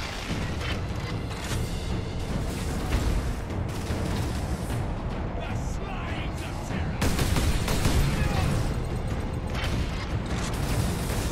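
Grenade explosions boom amid combat in Warhammer 40,000: Space Marine, repeated heavy blasts and crackling gunfire in a dense, continuous battle din, with a voice briefly audible underneath.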